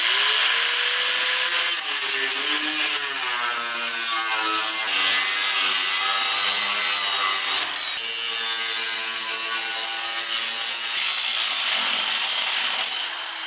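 A power tool cuts through the steel wall of a metal barrel, a loud, continuous grinding whine that wavers in pitch as the blade loads and eases, with a brief dip near the middle, close and alone.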